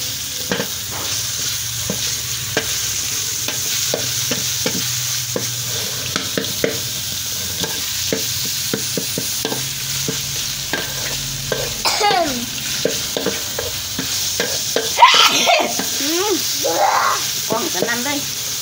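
Pork stir-fried in a hot pan, a continuous loud sizzle under scraping and clattering of a spatula, with voices talking and exclaiming over the cooking throughout.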